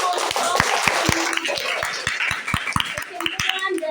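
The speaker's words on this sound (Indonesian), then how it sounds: "Ya, berikan tepuk tangan dulu." A small group, such as a class, claps in a loose rhythm of sharp, close hand claps, roughly three to four per second, with talk and some chuckling mixed in.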